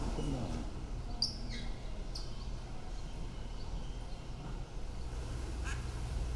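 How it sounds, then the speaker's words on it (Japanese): Ducks quack at a hotel pool, a mother duck with her ducklings, a few short calls rising over steady outdoor background noise. "アヒルのガーコの親子です。"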